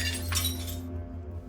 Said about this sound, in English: I heard glass shattering from somewhere deeper in the apartment.